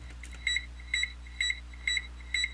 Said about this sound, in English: And so this is our beep noise.